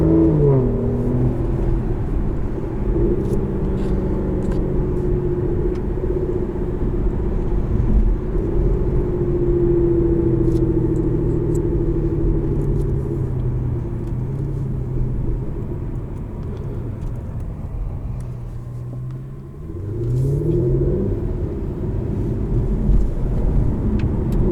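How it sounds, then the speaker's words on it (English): A 2014 Aston Martin Vanquish V12 rumbles steadily and loudly, with a deep, continuous engine drone. Near the end it dips briefly, then swells back up as the revs rise again. No one speaks. "V12s make the best noise ever."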